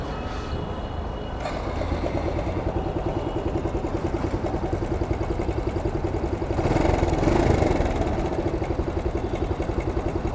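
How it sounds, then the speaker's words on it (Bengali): A used 2019 Suzuki Gixxer 150 motorcycle engine idles steadily, its low rhythmic putter continuous throughout and swelling slightly louder for a moment before settling back. "হলার থেকেও সাউন্ড বেরোয়, ইঞ্জিন থেকেও তো সাউন্ড বেরোতেছে"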